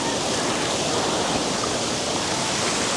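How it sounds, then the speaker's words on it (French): Water from a waterfall pours down stone stairs in Chengdu, a loud, continuous rushing roar close by with no pause. "L'eau déferle sur l'escalier."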